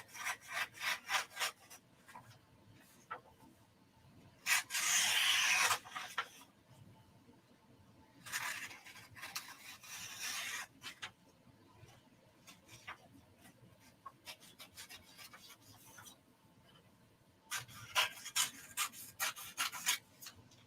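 Fabric edges are trimmed off a sublimation-printed shirt in repeated rasping cutting strokes. A few longer, louder bursts stand out among quieter short snips, close up and with no talking.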